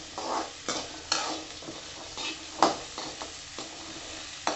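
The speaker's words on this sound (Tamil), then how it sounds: "இப்போ நான் இந்த காயை வதக்க போகிறேன்." Turkey berries (sundaikkai) being sautéed in a pan: a gentle sizzle runs underneath as a spoon stirs and scrapes at an irregular pace, about ten distinct strokes, close by and fairly quiet.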